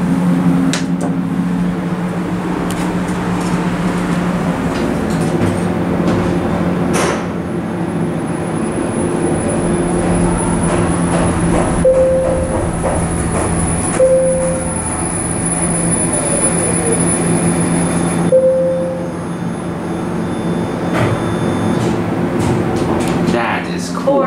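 Montgomery traction elevator motor in a Broadway parking garage, a steady low hum and whine running continuously with a few brief higher tones and clunks as the car travels between floors.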